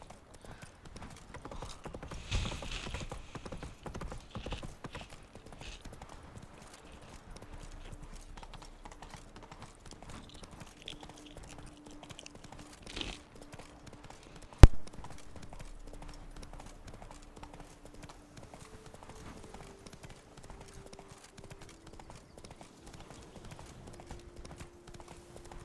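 Hooves of Geralt's horse Roach clop along in The Witcher 3, a faint, uneven rhythm of steps under soft ambience, with a sharp click in the middle and a voice talking at times.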